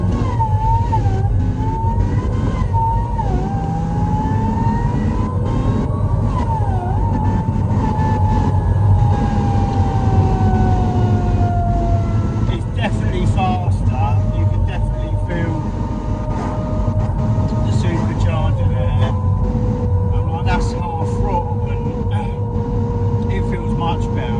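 A supercharged BMW E36 328i Touring on the move gives a loud, continuous engine drone with a rising and falling whine and steady road rumble throughout, and no one speaks.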